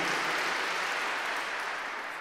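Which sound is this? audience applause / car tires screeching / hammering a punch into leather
audience applause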